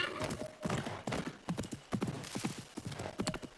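Horse hooves clip-clopping at a quick gallop in Assassin's Creed Mirage, a rhythmic, fairly close pattern of thuds running throughout with a brief whinny-like tone early on.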